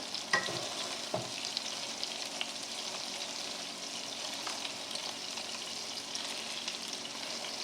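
Salisbury steak patties frying in a pan after being flipped, a steady close sizzle with a few crackles and stirring noises, no voices.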